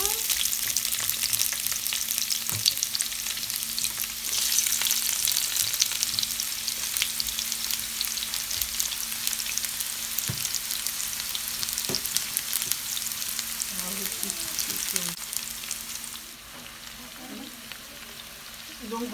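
Onions, peppers and courgettes frying in a pan, a loud, steady crackling sizzle that fills the scene, with occasional utensil knocks and faint scraping near the end.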